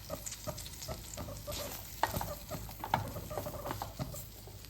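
Corn, capsicum and carrot are stirred in a pan with a utensil, giving soft scraping pats and a faint sizzle, with a couple of sharper knocks as the spoon hits the pan.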